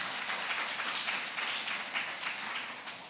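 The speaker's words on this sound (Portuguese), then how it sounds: "Vamos aplaudir a irmã que falou isso aí" Church congregation applauding during a sermon, a soft, continuous patter of many hands clapping at moderate distance, with no talking over it.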